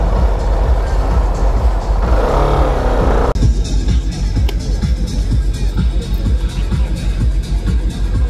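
CFMOTO NK motorcycle on a test ride, its engine droning loud and close over steady road and wind rumble, with a rougher surge early on before settling into an even note.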